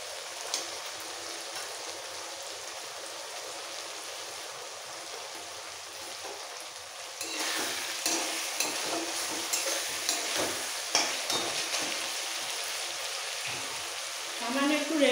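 Fried potatoes drop into a spiced onion masala for a fish roe fritter curry: a gentle hiss swells into louder, crackling sizzling about halfway through, with stirring scrapes close by and no talk over it.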